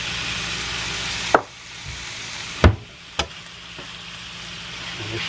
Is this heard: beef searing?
yes